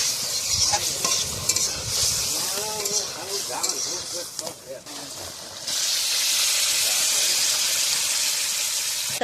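Prawns fry and sizzle in a pan on a wood-fired clay stove while being stirred, with a loud steady hiss rising in the second half and a voice talking briefly early on.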